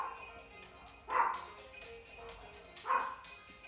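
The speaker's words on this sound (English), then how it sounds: "Maybe I can get the girls to try to get them to stop barking." Dogs barking indoors at home during a workout, two brief bursts about two seconds apart, moderately near against a quiet room background.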